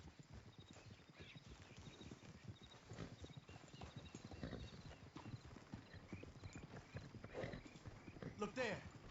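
Horse hooves clip-clop steadily in Red Dead Redemption 2, a continuous trotting rhythm at moderate distance with a brief whinny, layered under game ambience and occasional character dialogue.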